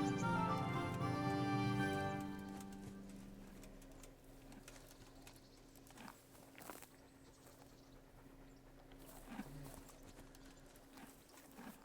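Horse hoofbeats from the medieval game Kingdom Come Deliverance, a steady clip-clop of a fast horse that starts loud and clear for about two seconds, then fades to a fainter, more distant patter with sparse thuds.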